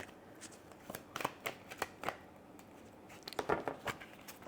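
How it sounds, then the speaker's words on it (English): Tarot cards being shuffled during a love reading, a run of soft papery riffles and slaps in uneven bursts, close and fairly quiet with no talking over them. "Okay, one more shuffle."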